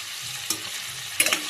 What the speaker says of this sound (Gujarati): તેલ ગરમ થઈ ગયું છે, હવે આપણે એમાં સૂરણ નાખી દઈશું. તેલમાં થોડા શેકી દેવાના